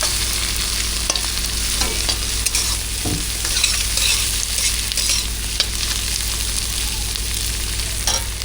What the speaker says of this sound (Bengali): এই যে চাউমিনটা ফ্রাই করছি সবজিগুলো